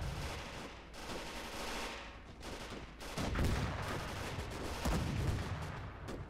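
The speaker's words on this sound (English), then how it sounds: "A lot of ricochets as well." Gunfire and ricochets in the Gates of Hell video game, with a dense, continuous clatter of distant rifle and machine-gun shots, sharp cracks and bursts layered into a loud battle din with no talk.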